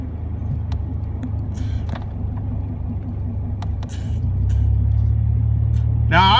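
A pickup truck drives along with a steady, low engine and road rumble heard from inside the cab; the drone grows noticeably louder partway through, with a few faint clicks and rattles on top.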